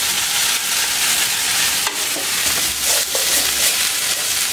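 Flattened rice (chuda) frying in mustard oil in a pan gives a loud, dense, steady sizzle throughout, with a few sharp scrapes of a stirring spoon.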